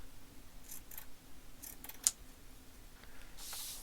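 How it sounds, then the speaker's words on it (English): Scissors snip the edge off a sheet of paper for a handmade recipe journal, giving a few short, faint crisp cuts spaced apart in a quiet room, ending in a softer rustle of paper. "Cut some of that edge off right there."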